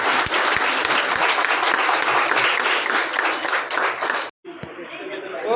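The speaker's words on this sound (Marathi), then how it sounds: "सगळ्यांनी जोरदार टाळ्या होत्या सर्वांनी" Hearty applause from an audience at a charitable trust event honouring 10th and 12th standard students, dense clapping filling the room for about four seconds, breaking off briefly, then resuming more lightly.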